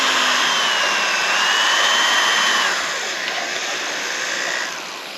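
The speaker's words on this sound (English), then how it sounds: "To drill the holes." A power drill bores holes to mount a Reolink security camera on a tree outdoors, whining steadily and loudly close by, then easing to a slightly lower pitch near the end.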